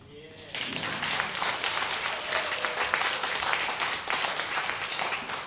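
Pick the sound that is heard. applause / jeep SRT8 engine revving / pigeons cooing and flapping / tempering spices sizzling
applause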